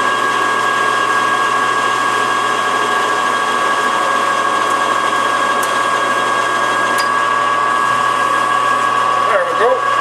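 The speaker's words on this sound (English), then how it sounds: "Any extra when we're done, we'll just cut it off with a cut-off tool." An air-powered cut-off tool cuts metal for a motorcycle step, a loud, steady high-pitched whine holding evenly throughout at close range, with brief ticks of contact near the end.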